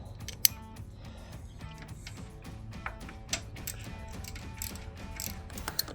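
Ratchet with a 10mm socket loosening radiator bolts on a Jeep Wrangler JK, giving close, quiet, rapid clicking pawl ratchets in repeated strokes.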